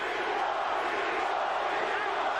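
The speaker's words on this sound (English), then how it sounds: "Crowd chanting Tito, Tito, Tito." Dense crowd roar at a 1999 championship boxing match between Oscar De La Hoya and Felix Trinidad, fans chanting in unison for Tito, a steady wall of voices filling the arena without pause.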